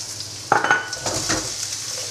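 Carrots and celery sizzle steadily in a hot pan while a utensil scrapes and tosses them through a few quick clattering strokes, the frying hiss continuing underneath, close and fairly loud.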